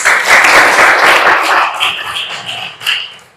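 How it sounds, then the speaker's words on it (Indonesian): A classroom of students claps for a classmate, a dense burst of broadband clapping that starts at full strength and thins out over a few seconds. "Tepuk tangan untuk Kemas."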